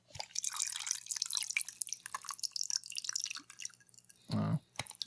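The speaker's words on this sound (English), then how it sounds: "I'm going to pour mine and try to get it to the microphone." Kikusui Funaguchi sake poured from a smart pouch into a glass, a faint trickling and dripping pour close to the microphone, ending with a short low gurgle.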